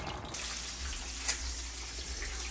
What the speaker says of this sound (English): we're just going to give them a rinse with cold water so I can stop the cooking process